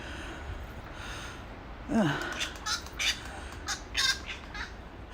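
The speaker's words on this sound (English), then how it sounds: "that croaky sound is a wattle bird." Harsh, croaky squawks from a wattlebird, a handful of rasping calls in quick succession, close and clear against a quiet outdoor background.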